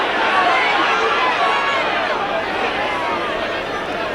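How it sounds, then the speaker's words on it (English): A rugby league crowd at a 1996 Leeds versus Halifax match roars and murmurs continuously, urging the Leeds players on, while a commentator's voice talks over the noise. "Crowd urging the Leeds players to back up."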